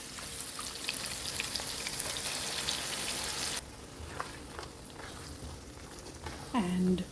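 Coconut paste sizzles in a pan with potatoes and paneer for a coconut gravy, a steady broadband fry that drops quieter midway, with a few faint clinks and a brief tonal sound near the end.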